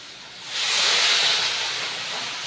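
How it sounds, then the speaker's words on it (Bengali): Hot water poured into a pan of frying cauliflower curry with fish head, bursting into a loud steamy hiss that swells after a moment, then eases slightly and holds steady. "এবার আমি পরিমাণ মতো গরম জল দিয়ে দেবো"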